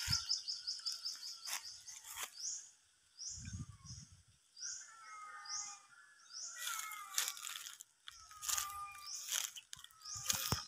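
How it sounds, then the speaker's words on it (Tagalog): Repeated high, rhythmic chirps from a bird nearby, with other birds calling intermittently and soft rustling thumps in the quiet background, beside a nearly dry creek in an agroforestry area. "maririnig mo yung mga huni ng ibon"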